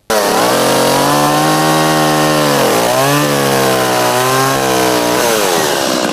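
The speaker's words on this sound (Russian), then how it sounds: "Бензопилой все лишнее, ледяной пепел летит в стороны." A chainsaw cuts into ice blocks being carved for sculptures, its engine roaring loud and close in one continuous run, pitch dipping under load midway and rising again.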